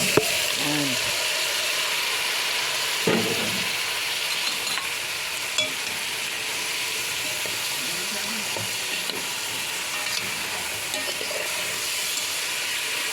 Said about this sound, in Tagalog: Yung manok na hinimay, igigisa sa luya, bawang at sibuyas.